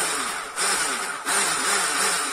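An electric mixer whirs loudly and continuously, with brief dips in pitch as the beaters work through the cream.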